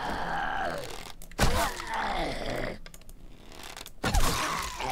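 A zombie shuffler in the survival game 7 Days to Die lets out drawn-out, raspy groans in bursts, broken by sharp clattering in-game hits and thuds.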